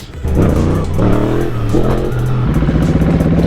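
A motorcycle engine revs hard at close range in repeated rising pulls, then settles into a steady, throaty idle. It sounds loud and alone, with no voices over it.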